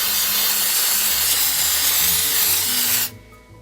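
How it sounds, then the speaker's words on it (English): Hairspray hisses onto a hair bow in one long, steady, fairly loud burst that cuts off abruptly, leaving near silence. "Take your hairspray at this point"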